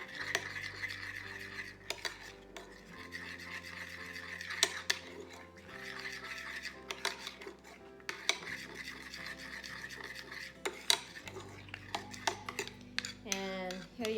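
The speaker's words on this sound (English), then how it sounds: "Continue mixing and it's gonna get more even and darker" Melted chocolate cake batter being stirred in a bowl, with steady scraping and clinking of a utensil against the sides, moderately close, continuing throughout with brief pauses.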